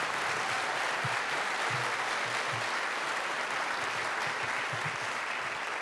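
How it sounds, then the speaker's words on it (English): Sustained applause from an audience at a 1976 ACC champions celebration event, dense continuous clapping from a large crowd throughout. "How about a round of applause for Dan Bonner?"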